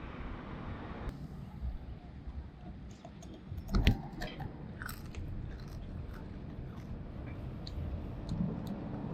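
Crunchy chewing of dried caterpillars close up, with a sharp crunch near the start of the fourth second, over a steady noisy outdoor background in Namibia.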